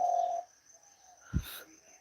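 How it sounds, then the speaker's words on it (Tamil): A wild spotted dove at a house coos briefly in the early morning, soft and somewhat distant, with a faint steady whine and a voice heard just before. "வரும் காட்டு புறா அங்கே பாரு இந்த சவுண்டு கேட்குதா"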